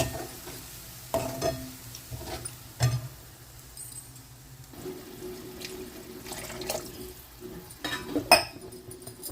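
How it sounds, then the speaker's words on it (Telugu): A glass of water splashes into a hot pan for a broccoli and pea curry, followed by a sustained sizzle and bubbling with a few spoon knocks along the way. "ఒక గ్లాస్ వాటర్ పోసుకున్నాను నేను"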